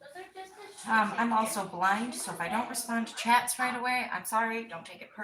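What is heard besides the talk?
No everyday noise stands out behind the speech.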